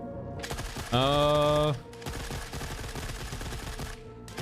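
A weapon fires in Forever Winter, a rapid stream of close, loud shots spread across most of the stretch with a brief pause partway, while the shooter tests recoil; a bright tonal game sound cuts in briefly near the start.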